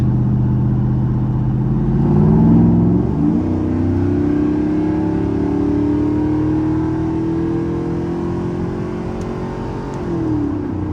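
A car called Desperado accelerates while driving, its engine revving steadily and climbing in pitch, with a brief gear change and a loud, close, continuous drone throughout.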